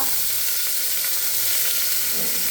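Small onions and sliced onions with salt sauté in a pan for mutton curry, giving a steady, dense sizzle with no talking over it.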